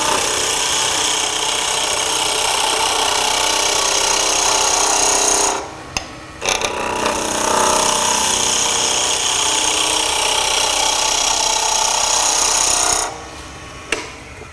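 Construction-lumber spindle turning on a wood lathe for Christmas bells, with a gouge floating the bevel: a steady close-up rasping scrape runs loud and continuous, broken by two brief pauses, with no talking.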